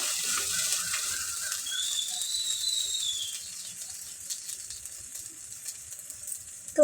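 Okra fries in a pan with a steady, close sizzle and a thin whistling tone early on that fades, with faint scattered clicks toward the end.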